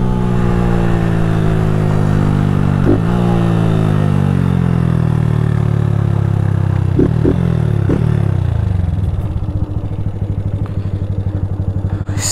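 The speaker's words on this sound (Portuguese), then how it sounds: "gostei da motinha do parceiro" A modified Honda Fan 160 motorcycle engine revs loud and close, its pitch sliding steadily downward through long decelerating pulls with a few sharp clicks, before settling into a rough, pulsing idle near the end.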